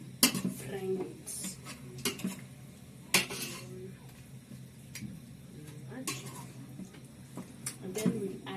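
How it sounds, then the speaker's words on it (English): Meat and onions stirred and frying in a pan, with scattered clinks of a utensil against the pan over a low sizzle and background kitchen noise. "So let's mix this nyama na vitunguu. So just like frying it."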